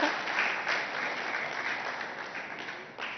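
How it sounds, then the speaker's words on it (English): Audience at a summit on khadi textiles claps steadily, a full, even patter of many hands swelling slightly then fading toward the end. "Claps can be louder."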